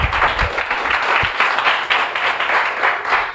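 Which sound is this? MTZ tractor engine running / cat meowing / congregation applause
congregation applause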